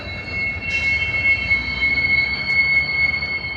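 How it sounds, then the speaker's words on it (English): A train being pushed uphill by a separate engine, its wheels squealing in a steady high metallic whine over a continuous low rumble of rolling railcars, loud and unbroken throughout. "the train is getting pushed up the hill"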